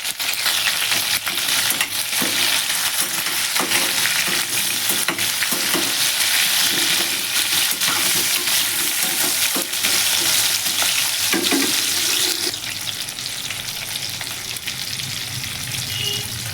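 Onions with curry leaves fry in a pan with a loud, dense, continuous sizzle and occasional stirring, close up and without talk.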